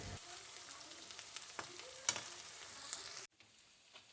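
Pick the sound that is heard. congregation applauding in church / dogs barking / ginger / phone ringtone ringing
ginger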